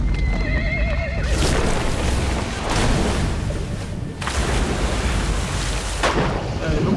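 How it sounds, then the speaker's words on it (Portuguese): A horse in the video game Metal Gear Solid V whinnies loudly and close at the start, then a broad, steady rushing din with a few heavy thuds fills the rest. "O cavalo tá aí."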